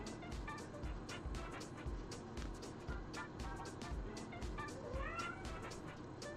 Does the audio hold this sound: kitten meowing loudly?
yes